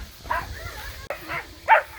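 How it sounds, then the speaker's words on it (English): Dogs bark in a few short, scattered bursts at moderate distance within a room or house, mixed with a low background rumble. "Dogs are barking like crazy because my dad's dog's up here."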